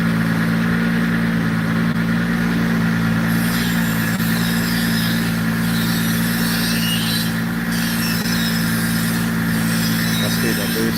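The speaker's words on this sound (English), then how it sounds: "Sounds so good on the dyno." A turbocharged car engine runs hard on a dynamometer, a steady loud drone with strong low harmonics and hissy high-end bursts, continuous throughout with no talk.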